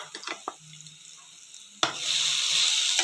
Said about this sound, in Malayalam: അത് നല്ല ചുവന്ന നിറമായിട്ട് വരുമ്പോൾ അതിലേക്ക് തേങ്ങ ഇടുക.